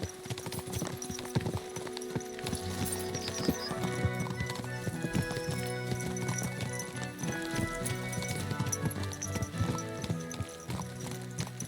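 Horse hooves clip-clop steadily in Kingdom Come Deliverance 2, a rhythmic trot that runs throughout at moderate loudness over an ambient game backdrop, with an occasional whinny.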